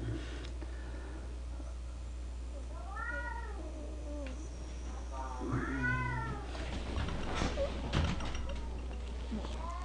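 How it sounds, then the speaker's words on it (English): Several house cats meow and yowl back and forth indoors, rising and falling calls trading off at moderate distance over a steady low hum, with some thumping and clatter toward the end. "Right now, the 3 other cats are talking to each other."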